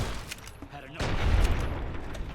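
Long-range rifle fire in Fallout New Vegas, a booming shot followed by a heavy rolling report and lingering rumble, with a voice talking briefly before it.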